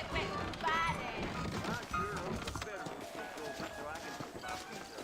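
Horses' hooves clopping in a Western video game, rapid irregular clip-clop beats under someone speaking, with some thuds and clatter mixed in.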